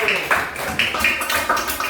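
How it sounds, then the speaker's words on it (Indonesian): A class of students claps hands in a rhythmic burst, several sharp group claps in quick succession filling a classroom, fairly close and loud. "Ulang lagi, tepuk tangan."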